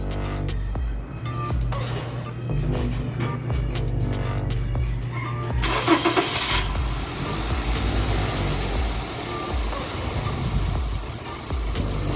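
A Toyota Corolla engine cranks and fires after a service, shifting from a quiet low hum into a sudden burst of broad hissing roar, then settling into a steady idle close by.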